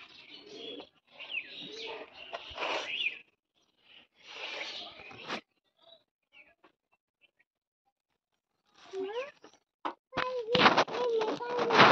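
Pigeons kept with their chicks coo and chirp in short bursts close by, with quiet gaps between calls and a denser run of calls near the end.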